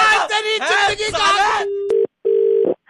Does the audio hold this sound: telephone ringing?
yes